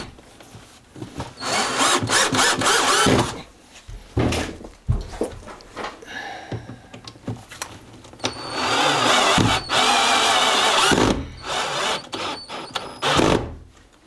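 A power drill driving screws to join kitchen cabinets together, several loud close bursts of whirring spin separated by short pauses, clunks and handling knocks, no talking.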